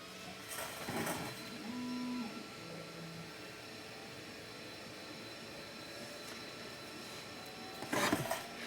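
An xTool S1 laser engraver runs at low volume, giving a soft mechanical hum with brief whirring motor moves and short tonal beeps, plus a louder burst of motion near the end.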